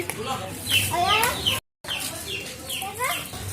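Chickens cluck and chatter close by in a continuous stream, with a brief silent break midway before the clucking resumes.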